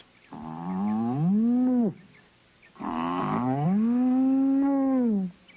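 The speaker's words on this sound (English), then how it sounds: "Nobody's going to get my Lena, the only blue cheese cow in the world." A cartoon cow gives two long, loud mooing calls with a short pause between them, each bending up and then down in pitch.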